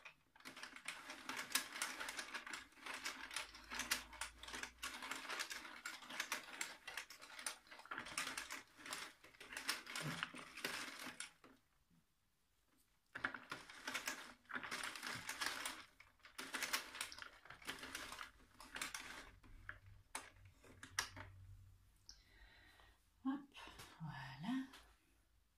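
Prym Maxi semi-automatic knitting mill being cranked, giving a steady run of rapid clicking and ratcheting for about eleven seconds, a short pause, then more cranking clicks; a voice speaks over parts of it.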